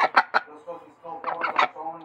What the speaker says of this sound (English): The ducks want to see you.